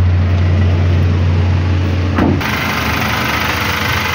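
The 2.8-liter 1GD turbo diesel in a 2020 Toyota Hiace Commuter idles with a steady low rumble, heard close with the hood open. Partway through, the sound shifts as broader noise rises to mask the idle.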